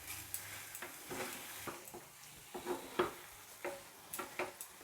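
A spatula scrapes and stirs pea paratha filling in a kadai over a low gas flame, giving irregular close scraping clicks and knocks over a soft, steady sizzle with no voices.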